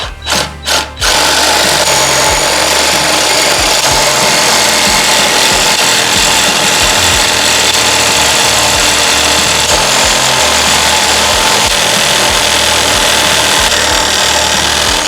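A power tool cuts through metal on a Harley-Davidson Sportster being converted for flat track, giving a loud, continuous whine after a few short starts at the beginning.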